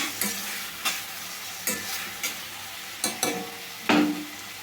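Tomato pieces fry in a pan under a soft steady sizzle, punctuated by about seven distinct scrapes of a spoon stirring them at an uneven pace, close by with no voices.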